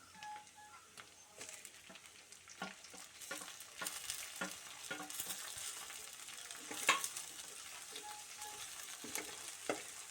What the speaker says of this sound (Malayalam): തക്കാളി നന്നായിട്ടൊന്ന് വഴണ്ട് വരുന്നത് വരെ നമ്മൾ ഇളക്കിക്കൊണ്ടിരിക്കണം